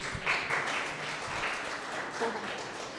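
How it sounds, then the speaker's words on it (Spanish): Seminar audience at a Bolivian university gives a round of applause, moderate and somewhat distant clapping lasting about three seconds with faint voices mixed in. "Un fuerte aplauso, por favor."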